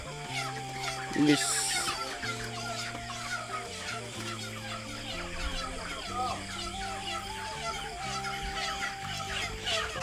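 Chickens cluck and fuss nearby in a large coop, mixed with a steady background of music and occasional people talking.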